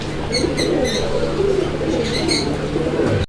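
Fancy pigeons coo repeatedly nearby, soft rolling calls over a low background hum, with a few brief higher chirps between them.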